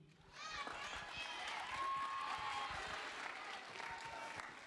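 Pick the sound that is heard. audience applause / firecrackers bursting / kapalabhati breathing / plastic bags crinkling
audience applause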